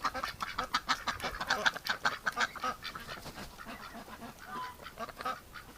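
Ducks and a goose call repeatedly in a busy, overlapping run of quacks and honks, close and fairly loud at first, then thinning into scattered calls, with no talk.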